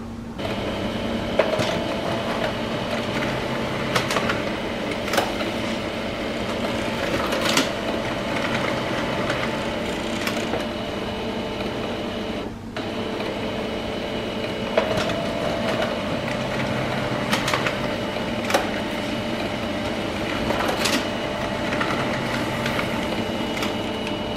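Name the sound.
laser printer duplex printing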